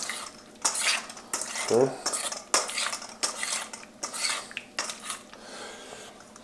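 A spoon stirs salsa seasoned with a little salt in a bowl, several quick clinking scrapes against the dish in an irregular rhythm, close and fairly quiet, with one brief spoken word.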